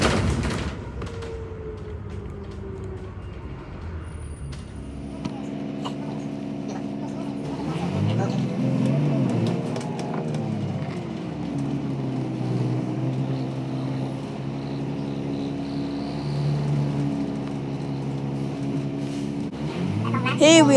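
Road traffic heard from inside a bus crawling through congested streets in Taunton: a steady low engine drone and rumble with passing vehicles, continuous and fairly close throughout.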